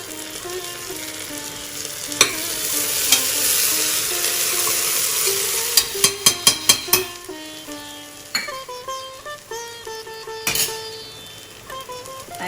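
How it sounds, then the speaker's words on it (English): Curry leaves drop into hot oil in a cooker and burst into a loud, close sizzle, with a quick run of sharp crackles and pops that then settles into a steady fry. "And then I add the curry leaves."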